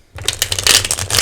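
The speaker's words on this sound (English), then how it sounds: "I don't know why I keep like shuffling each time." A deck of tarot cards is shuffled up close for a reading: a quick, loud burst of riffling card flicks lasting about a second, alone without talk.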